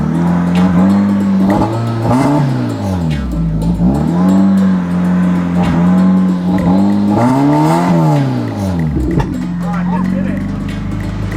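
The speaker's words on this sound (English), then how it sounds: "So I think I have to rev it up, cut, and then as soon as it starts going to 2000, let off." A car engine, with an aftermarket mod under $200, revs up and drops repeatedly in a steady rise-and-fall rhythm. It sits loud and close, with voices talking over it.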